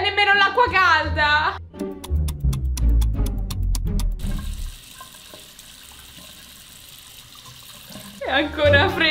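Cold water runs from a tap in a basic hotel bathroom sink while someone washes their face, a steady hiss lasting several seconds between bursts of talk, with splashing thuds near the start.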